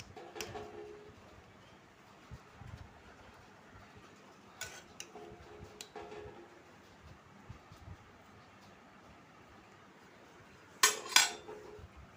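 Plates set out for serving khichuri on a rainy afternoon give a few faint, scattered clinks and knocks over a quiet room, with a brighter clatter near the end.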